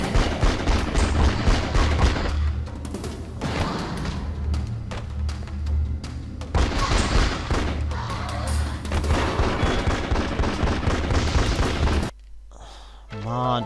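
Dense, rapid gunfire from the video game The X-Files: Resist or Serve, with booming impacts and chaotic battle noise, loud and continuous, with a voice talking intermittently underneath before it suddenly drops away.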